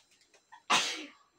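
A single sharp sneeze bursts out close by at a family Christmas gift opening at home, preceded by a few faint soft sounds and trailing off quickly.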